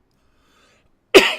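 A single sharp, close cough bursts out after a second of silence and trails off briefly.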